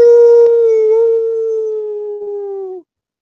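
A human voice imitating a wolf howl, one long sustained tonal cry held loud and close, sliding slowly lower before cutting off abruptly into silence.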